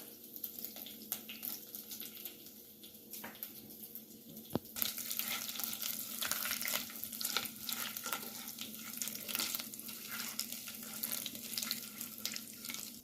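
Cumin seeds hit hot oil for Kashmiri dum aloo, a faint clink followed by a sudden, sustained rise of crackling sizzle that keeps on quietly with tiny pops.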